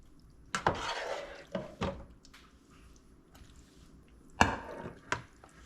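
Sloppy joe pasta spooned out of a heavy pot into a baking pan in a home kitchen: several separate scraping, clunking scoops of metal on cookware with wet plops, spaced irregularly with quiet gaps between.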